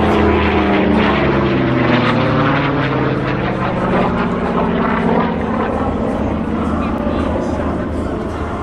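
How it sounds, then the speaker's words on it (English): Corsair fighter with an 18-cylinder, 2,000-horsepower radial engine flying past at the Geneseo air show, its propeller drone loud, close and sustained throughout, easing slightly toward the end. "brings the Corsair back in"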